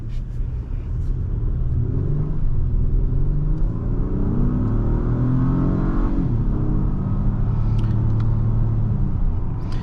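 A 2022 Acura MDX Type S with a 10-speed automatic gets driven, its engine rumbling and climbing through rising revs with a steady road drone inside the cabin.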